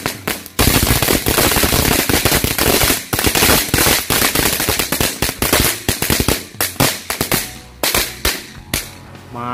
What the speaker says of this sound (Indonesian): selanjutnya kita nyalakan mercon telur dino pretek